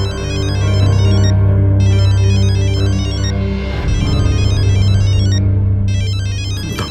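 A phone ringtone rings steadily and loudly for several seconds in a dramatic Indian TV crime-show scene, its repeating electronic melody heard over a sustained musical score.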